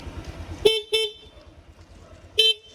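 A car horn honks twice in quick succession, then once more after a pause; the blasts are loud, short and close over a low engine rumble.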